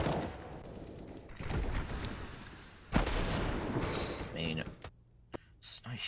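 Gunfire in a competitive Counter-Strike esports match between ECLOT and RAZEPEEK: rapid bursts of shots and sharp single cracks, one loud report near the middle, heard under a caster's excited commentary.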